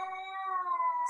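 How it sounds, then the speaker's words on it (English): A cat lets out one long, drawn-out meow that wavers in pitch like a plaintive wail, close and clear with no talking over it. "It's a cat."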